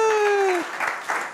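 Brief audience applause at an investor pitch event, starting under a sustained voice and then continuing as a thinner patter of claps for about a second.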